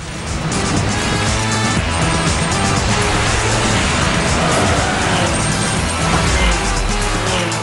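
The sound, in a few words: rocket cars racing in video game Rocket Car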